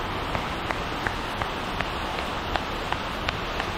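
Heavy rain makes a steady, hissing wash of noise, with faint, irregular drip-like ticks scattered through it and no voices.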